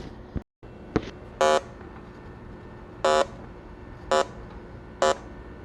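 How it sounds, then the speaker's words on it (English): A digital refrigerant leak detector checks a repaired condenser, giving four short buzzy beeps at uneven intervals over a low background hum, with a couple of faint clicks at the start. "we checked it with the digital leak detector"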